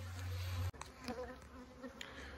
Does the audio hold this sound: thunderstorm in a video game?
no